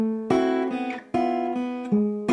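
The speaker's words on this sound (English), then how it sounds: "Let me play that for you again" Slow guitar run played clean and close, with three plucked note groups with pull-offs ringing out one after another, each attack followed by sustained harmonic tones, no talking.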